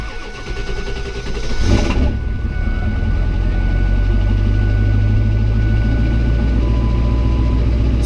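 A Ford 7.3 diesel truck engine cranks for about two seconds and catches a little rough, then settles into a loud, steady low idle that runs through the rest of the clip.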